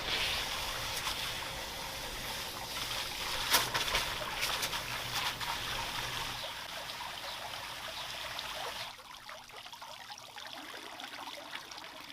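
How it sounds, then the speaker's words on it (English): Water spills over the edge of a clogged garden gutter instead of draining through the spouts, making a faint, continuous trickling and splashing outdoors. The flow softens toward the end. "You guys see how the water is like overflowing here and none of the water is coming out of the spouts?"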